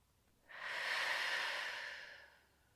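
A single slow inhale during a Pilates stretch for rounded shoulders and tight hips: a soft, airy breath drawn in close to the microphone for about two seconds, then tapering off, with no talking.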